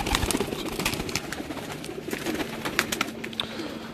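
Pigeons kept in pairs on a rooftop coo and flutter in a steady, busy outdoor chorus, with a continuous murmur of bird calls and occasional sharper peeps close by.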